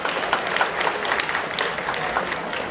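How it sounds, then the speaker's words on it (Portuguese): An audience at a national forum claps together in a dense, steady round of applause that carries evenly throughout, with a faint murmur of voices beneath. "Uma salva de palmas."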